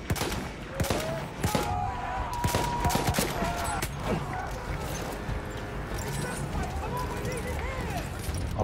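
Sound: gunfire in the video game Battlefield 1

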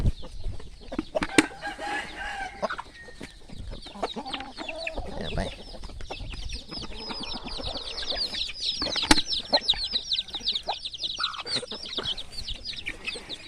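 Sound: chickens clucking

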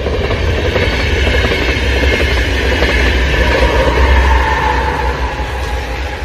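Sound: passing train

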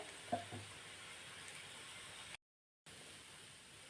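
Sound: cucumber thalipeeth roasting on a pan

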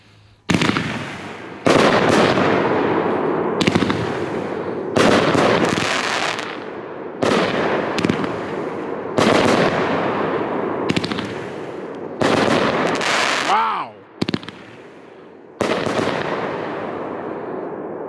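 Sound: Wild Dragon Fireworks Colors of Chaos 18-shot 1.4G cake

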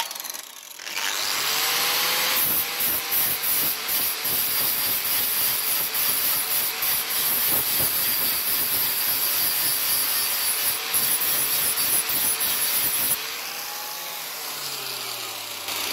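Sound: flap disc grinding down a weld

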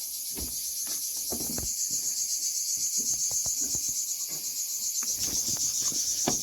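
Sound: cicadas singing

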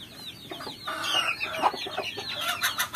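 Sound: local chickens clucking, frizzle chicken

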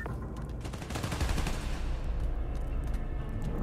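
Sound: gunfire in Spider-Man Miles Morales video game

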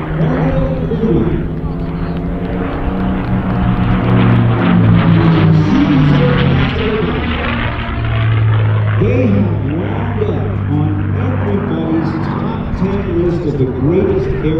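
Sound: P-51D Mustang aircraft engine flying

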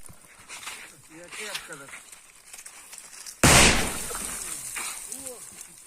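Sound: hand grenade explosion during trench training

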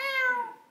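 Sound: person imitating a cat meowing

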